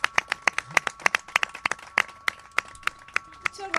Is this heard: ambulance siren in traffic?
no